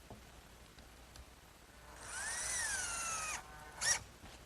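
A power drill drives wood screws into a wooden hutch frame: a rising whine of about a second and a half, then a short second burst, close and alone against a quiet room.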